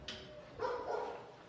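A small pet dog barks at a house window, giving a couple of faint, short barks at a distance.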